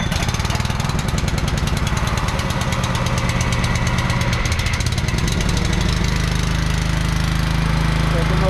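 A small engine runs flat out with a loud, rapid, steady putter and buzz, close and continuous.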